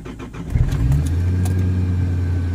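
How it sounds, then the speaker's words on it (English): A car engine on a standalone ECU cranks briefly and then fires, catching into a steady, loud, close idle that holds to the end; no talking. "make sure we're in neutral, turn on my fuel pump, and let's go ahead and crank it and see what happens"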